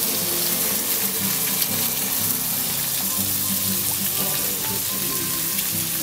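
Sausage grease from Knox Spice sausage sizzles and crackles steadily in a hot pan on a StoveTec rocket stove, a dense, continuous frying hiss with popping spatters and no voices.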